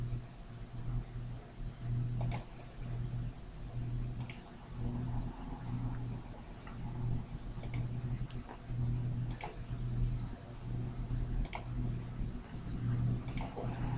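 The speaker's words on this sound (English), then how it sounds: "I will just click a few times to create a number of these horizons" Computer mouse clicks over a steady background hum, several sharp isolated clicks spaced a second or two apart, close and clear.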